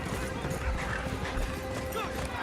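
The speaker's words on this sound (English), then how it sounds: "This magnificent animal giving everything for his jockey." Racehorses galloping down the final straight of a virtual horse race, a steady, dense patter of hooves with crowd-like roar underneath and a commentator talking over it throughout.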